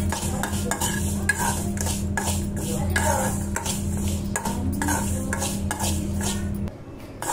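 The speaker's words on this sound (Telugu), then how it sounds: "దానికోసం నువ్వులు, పల్లీలు, 4 జీడిపప్పులు, కొంచెం పచ్చి కొబ్బరి వేసి వేయించుకుంటున్నాను" Sesame seeds, peanuts, cashews and grated fresh coconut are dry-roasted and stirred in a pan, with steady rhythmic scraping and clinking of a spoon against metal over a constant low hum, close and continuous with no talking.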